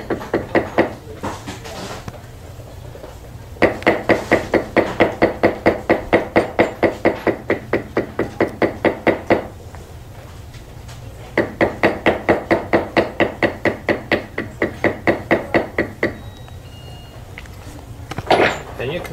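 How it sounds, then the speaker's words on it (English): Leather is tooled by tapping a larger beveling tool with a mallet, heard as rapid, evenly spaced knocks in two long bursts with short pauses between, close and fairly loud. "You can re-bevel with a larger beveling tool."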